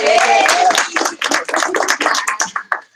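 Applause breaks out in a room for a father and stepmother in the audience, a burst of claps with crowd noise and some voices mixed in, lasting a few seconds.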